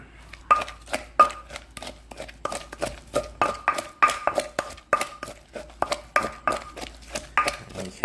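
A spoon stirs a Thai chili paste mixture with Nan crab paste in a bowl, giving steady rhythmic scraping and clinking taps, close and moderately loud, with no talking.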